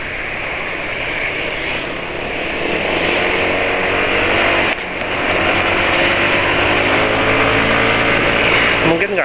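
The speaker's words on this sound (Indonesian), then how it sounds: "suara mesin kali ini sekarang itu lebih halus daripada berangkat tadi" A car engine running on Amsoil Signature 5W-50 oil gives a steady, even drone heard from inside the moving vehicle, loud and continuous with a brief dip midway.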